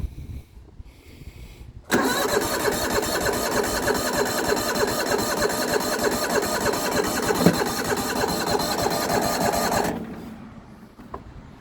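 A Yamaha YT6800 garden tractor engine cranks steadily for about eight seconds without catching, a loud, even churning rhythm that starts abruptly and stops, with quiet before and after.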